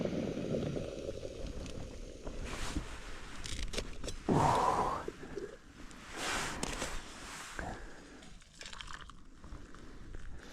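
A camping stove burns inside a tent during a freezing, snowy solo wild camp in the Lake District, giving a steady close roar with rustling movements and a brief higher-pitched squeak partway through.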